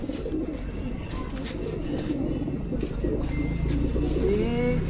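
Racing pigeons coo in crates during basketing for a training toss, soft repeated coos close by over a steady rumble of background noise, with people talking nearby.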